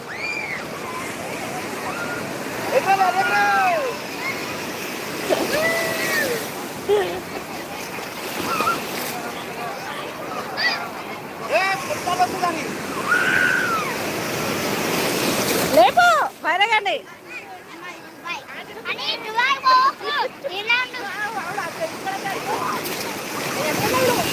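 Sea surf breaks and washes beside Murudeshwar temple, the roar of waves rising and falling under people shouting and talking nearby, with a sharper rush of water near the end.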